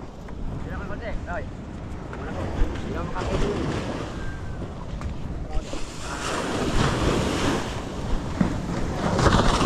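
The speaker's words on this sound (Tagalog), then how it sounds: "Maalon na." Rough sea waves surge and crash on a sandy shore as wind buffets the microphone, a loud, continuous roar that grows heavier in the second half, with brief voices underneath.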